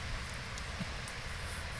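A heavy downpour in Riyadh, Saudi Arabia, makes a steady, dense hiss of rain. It is fairly faint and constant, with no talking, over a short stretch.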